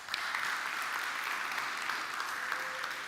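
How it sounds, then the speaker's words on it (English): A large audience at a live student architecture awards ceremony applauds steadily, a dense, continuous clapping that stays loud and even throughout, with scattered cheers mixed in. "Can we get a big round of applause?"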